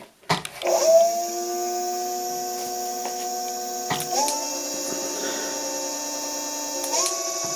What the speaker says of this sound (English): As soon as you press that accelerator, you are going to move forward. Let's see what the speeds sound like.